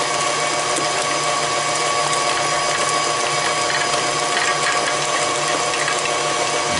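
An electric mixer whirs steadily through banana cake batter, a continuous close mechanical buzz with a gritty, ratcheting texture and no pauses.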